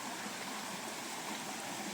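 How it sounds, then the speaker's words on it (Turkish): Steady broadband rush of flowing water, a forest stream and waterfall pouring continuously nearby with no pauses. "bu sular buradan sessiz sedasız akıp giderken şurada çok güzel bir şelale oluşturuyor"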